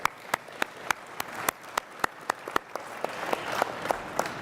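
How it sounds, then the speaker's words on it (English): An audience at a business innovation event gives a round of applause, with sharp individual claps standing out against a lighter spread of clapping that swells slightly toward the end. "let's have another round of applause for them and their amazing work."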